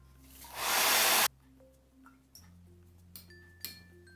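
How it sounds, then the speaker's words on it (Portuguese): A hair dryer drying paint on an MDF ornament blows in a loud, breathy whoosh for about a second, then cuts off, followed by a few small clicks and taps. "Agora eu vou secar com o secador"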